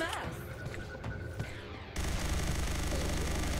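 Full-auto gunfire from dual-wielded weapons in the video game Hellslinger, a dense sustained burst of shots that grows louder and more continuous halfway through, loud and close.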